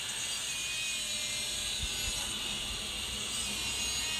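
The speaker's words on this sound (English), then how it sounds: "here I'm just going to go on and cut it with an angle grinder" An angle grinder cuts into a heavy cleaver during a restoration, making a steady high whine and hiss throughout, close and even, with a couple of faint low knocks partway through.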